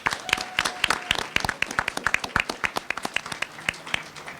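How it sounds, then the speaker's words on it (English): Scattered applause at a town meeting, a small crowd clapping unevenly with distinct individual claps, moderately quiet and fading toward the end. "let's give those students another round of applause."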